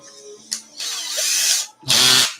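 A handheld power drill chucked with a thread tap in an RC car repair shop whirs in short bursts, a brief blip followed by a longer rising run, a pause, then another loud spin, close and alone.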